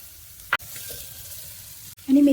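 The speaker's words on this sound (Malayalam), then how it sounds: "പനീർ ചേർത്ത് ഫ്രൈ ചെയ്യാം." Paneer frying with green peas, ginger, garlic, chilli and masala powder for a millet biryani, a faint low sizzle with a sharp clink, then a louder burst of scraping and sizzling at the end.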